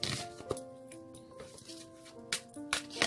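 Tarot cards being shuffled by hand in a quiet room, with brief papery riffles and taps in short bursts under a soft melodic music bed.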